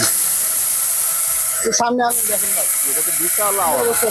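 An electric blender grinder mills rice into flour with a loud, steady whirring roar that cuts out briefly, while someone talks over the machine.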